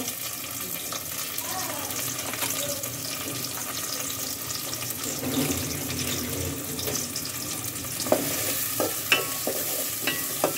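A bay leaf fries in a pan for a beef curry, a steady hiss with rushing, water-like texture, ending in several short knocks and scrapes of a spoon stirring.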